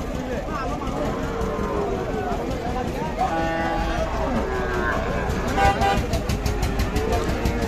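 A Sahiwal bull lows at a busy cattle market, a drawn-out moo emerging mid-way amid crowd chatter, vehicle noise and horn toots.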